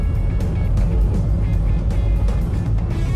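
Cabin sound of a 2025 Toyota Wigo G with a CVT cruising on an expressway: a steady low engine and road rumble with tyre hum and faint ticking, constant and close, with no talk.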